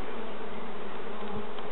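Honeybees buzz in a steady, close, continuous drone while a hive is opened for a May inspection, with no voices.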